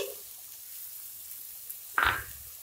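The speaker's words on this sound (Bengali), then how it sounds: "এখানে আমি লঙ্কা হলুদটা জল করে দিচ্ছি দইটা দিয়ে দিচ্ছি" Chili-turmeric water and yogurt poured into a hot pan for a Bengali yogurt fish curry, a brief sudden splash and sizzle near the end, loud and close after near silence.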